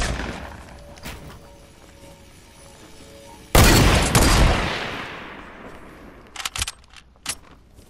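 A sniper rifle fires in the Fortnite battle royale game: one loud, close shot with a long fading echo follows a quiet stretch of faint clicks, and several brief smaller cracks come after.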